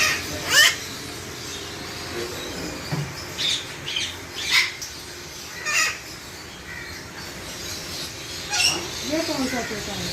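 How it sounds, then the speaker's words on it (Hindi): A pair of grey parrots at a bird farm let out a few sharp, scattered squawks, spaced several seconds apart over a low outdoor background, with people talking nearby. "ये जोड़ा है ग्रे पैरेट।"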